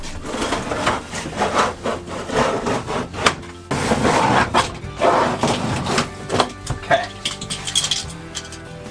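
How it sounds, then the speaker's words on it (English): A knife scrapes and cuts through caulk around an RV shower insert, with repeated close rasping strokes and scratchy rubbing in uneven bursts. "you need to cut loose of all the caulk"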